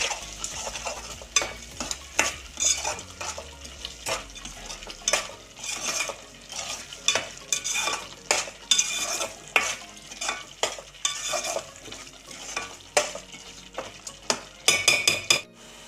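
Turmeric and salt being stirred into curry frying in a pan for a spinach chicken curry: a steady run of scraping spoon strokes over a constant sizzle, with occasional clinks of utensil against the pan.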